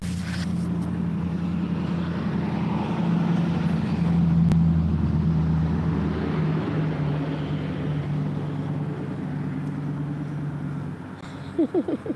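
A car rolls slowly past, a steady low engine rumble sustained for most of the stretch before thinning out near the end.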